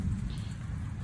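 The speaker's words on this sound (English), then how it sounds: "So here comes the rain." Steady rain falling outdoors over a home putting green, a dense continuous hiss and patter with low rumble, alone with no voices.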